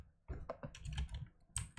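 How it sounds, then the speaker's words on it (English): Keys on a computer keyboard are pressed in a short run of distinct clicks and taps, close and fairly quiet, with irregular pauses between keystrokes. "you press the right key on your keyboard"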